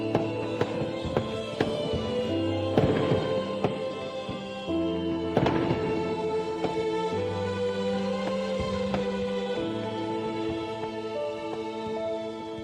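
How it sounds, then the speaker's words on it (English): Fireworks burst at a festival scene in a Song Dynasty drama, several sharp booms and crackles spread over the stretch, set against a sustained layer of music. "The fireworks are on."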